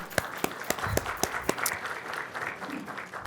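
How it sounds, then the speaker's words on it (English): An audience at a summit on regeneration in Bermuda claps for a departing speaker. A handful of crisp, evenly spaced claps stand out before the applause thins into a quieter, fading patter. "Let's give her a round of applause."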